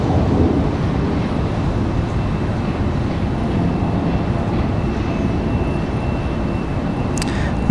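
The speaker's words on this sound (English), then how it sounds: "So let's go for Aeromexico in that MAX 9. Again, coming in from Mexico City." Aeromexico Boeing 737 MAX 9 arriving from Mexico City at Washington Dulles, a steady broad jet roar with heavy low rumble, sustained and fairly loud, with no talking.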